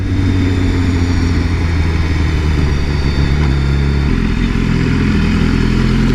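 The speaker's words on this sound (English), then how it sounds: "Love that backfiring character." A 2015 BMW S1000RR superbike engine runs loud and close for about six seconds, a steady rumbling drone with uneven crackling pops of backfire layered over it and no voices.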